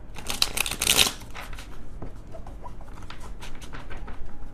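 A small tarot deck is shuffled by hand in quick, close riffling bursts, busiest at the start, then lighter patters and soft card taps trail off.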